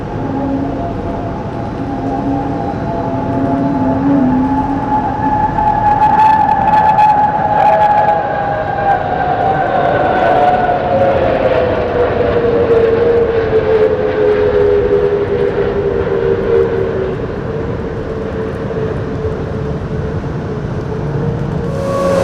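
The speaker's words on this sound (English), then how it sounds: "Here we see Al Fursan performing a flyby on Wednesday at the show, in formation with a fly-by Boeing 737." Jets of the Al Fursan display team fly past in formation with a Boeing 737 at the Dubai Airshow, a loud sustained roar with a slowly falling engine whine as the formation passes overhead.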